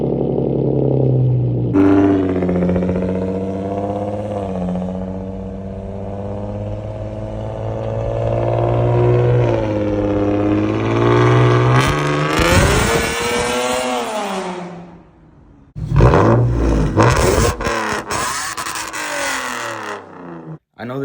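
Nissan G35 exhaust with resonator and cat deleted, two cats left on the headers, revving loud and close with a deep droning tone that climbs and rasps near the end, then cuts out briefly before sharp blips of throttle.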